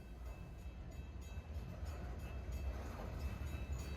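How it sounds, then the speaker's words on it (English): A heavy southbound potash freight train led by a CP AC4400 locomotive rumbles steadily past close by along the Mississippi River, with a continuous low roar and faint metallic rattling of cars throughout. "This was a southbound potash train."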